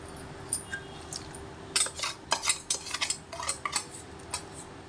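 Spoon scraping and clinking against a metal vessel while pulihora, tamarind rice, is stirred, in a series of irregular close taps and scrapes over a quiet background.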